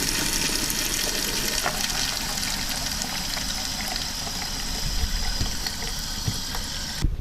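Pink antifreeze is pumped through the plumbing of a Geo Pro 19FBS camper trailer while it is being winterized, rushing out of a faucet in a steady hiss with no talking.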